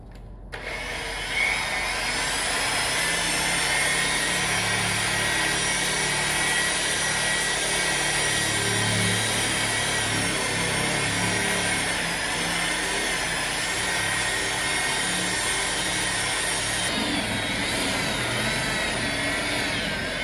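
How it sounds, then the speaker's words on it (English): A rotary polisher with a wool pad buffs the tailgate of a 2013 Ram 2500 Mega Cab during paint correction, a steady loud whine and hum that runs continuously for the whole stretch with slight shifts in pitch. "I started buffing the tailgate and it's looking really good."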